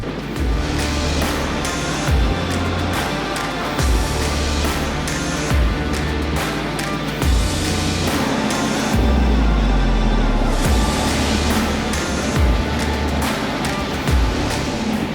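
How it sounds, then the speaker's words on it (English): A Hummer H2 churns through deep snow with its tires spinning, a loud, sustained engine roar rising and falling in rhythmic surges as the wheels scrabble for grip. "I'm already spinning tires"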